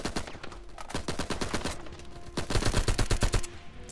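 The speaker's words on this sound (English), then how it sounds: "blind fire is fantastic in this game" Rapid bursts of blind-fire gunshots from the video game Uncharted 4, a dense stream of sharp cracks with a heavier volley toward the end, loud and close with no talking.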